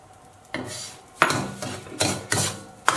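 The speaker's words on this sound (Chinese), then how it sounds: "翻炒，" Salt tossed with star anise and fermented spices scrapes and rasps against a pan, five separate stirring strokes spaced about a second apart, close and fairly quiet with no talk.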